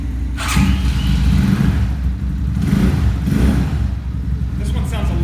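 An X22 125cc motorcycle engine, not started for a few days, turning over and running with a low steady rumble that surges a couple of times, loud and close, with a voice talking over it.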